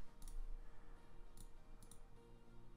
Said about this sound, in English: I click here and delete.